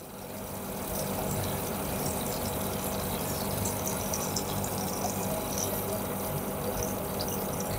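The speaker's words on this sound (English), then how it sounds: "Now I will take out all the water from the machine." Water draining out of a Siemens clothes dryer during a repair, a steady, fairly loud rushing and gurgling flow that holds evenly from start to finish with no talking.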